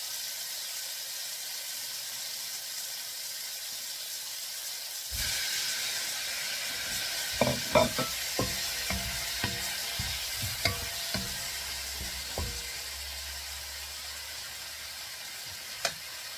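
Shrimp dropped into a hot pan for ginataang kalabasa with sitaw and talong: a steady loud sizzle and hiss, with a scraping utensil clattering in uneven stirring strokes against the pan.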